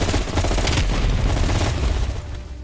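Loud, booming gunfire and explosive bursts from a grenade launcher in the video game Call of Duty: Black Ops Cold War, a dense rumbling barrage for a couple of seconds.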